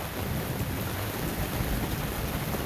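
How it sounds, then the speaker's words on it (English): Steady, dense rain of an intense thunderstorm drums on a tent, a continuous close wash of noise with low rumbling underneath and no talk. "These storms around here"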